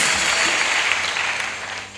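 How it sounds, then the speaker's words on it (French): A crowd at a missionary send-off ceremony in Côte d'Ivoire breaks into applause and acclamation, a dense, continuous wash of clapping and cheering that stays loud throughout this brief moment. "Acclamation."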